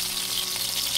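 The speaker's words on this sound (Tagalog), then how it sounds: "Ipritohin natin siya hanggang mag-brown ng ganyan." Sliced eggplant fries in hot oil, giving a brief, steady bright sizzle and crackle at close range with no talking over it.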